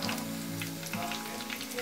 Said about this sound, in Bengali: সেম প্রসেসে বাকিগুলো ভেজে নেব